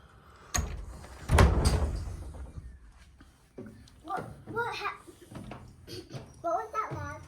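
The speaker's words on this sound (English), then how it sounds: "Better shut this door for mosquitoes." A sliding door at a house is pulled shut with a couple of loud thuds and rattles, followed by someone talking nearby.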